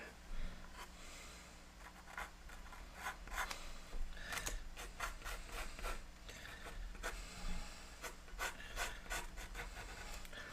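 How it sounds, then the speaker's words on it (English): A pencil sketches on a drawing surface with soft, continuous scratchy rubbing and repeated quick strokes, quiet and close, with no talk. "I want to sketch like where my eye is going to be"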